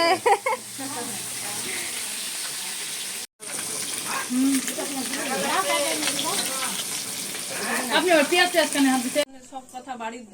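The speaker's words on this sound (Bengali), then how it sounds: "এই যে আমার কাকিমা এখন মাছ ছাড়ছে কড়াইতে" Fish sizzles steadily in hot oil in a kadai, a loud continuous frying hiss with a brief cut near the start, while people talk over it close by.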